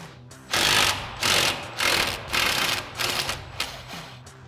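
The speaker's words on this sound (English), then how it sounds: "we're going to go ahead and grab our 18 mil socket on our impact." An impact wrench with an 18 mm socket rattles off the top sway bar end link nuts on a Jeep Wrangler JK in six loud, rapid hammering bursts, close up.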